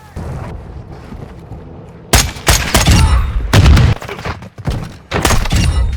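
Gunfire and heavy impacts in the shooter game Call of Duty: Modern Warfare II: a quiet stretch gives way to loud clustered shots and booming thuds that rise and fall in several bursts, with no speech.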